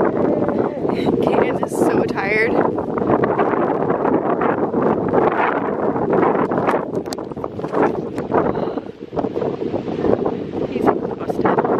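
Strong wind buffeting a microphone outdoors on a sunny day, a constant loud rumbling roar with gusty surges throughout, with occasional faint voices partly buried underneath.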